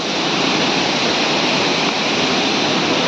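Chatikana waterfall pours down from Niyamgiri mountain near a Shiva temple in a dense, continuous roar of rushing water, loud and close, with no voices.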